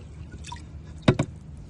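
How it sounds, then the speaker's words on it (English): A paint stick stirs BIO-112 Heavy Sludge Digester, a septic treatment, into warm water, giving soft liquid swishes and then two quick, louder sloshing splashes close by. "Here's the BIO-112 Heavy Sludge Digester being mixed into the warm water."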